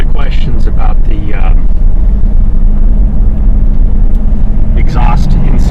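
Well-used glass pack exhaust on a Crown Victoria booms as a steady low rumble inside the cabin, constant and loud throughout, with someone talking over it at the start and again near the end.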